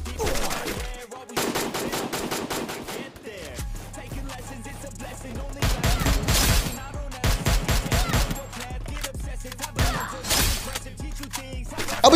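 Gunfire in the Free Fire battle royale game, with repeated loud bursts and rapid automatic volleys spread across the clip, each followed by short gaps, against a steady game background.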